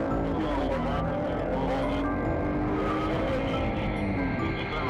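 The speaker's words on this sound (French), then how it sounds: "il remonte dans sa voiture et décide de prendre la fuite" A fleeing car's engine roars continuously during a police chase, loud and steady with road and tire noise throughout, no voices.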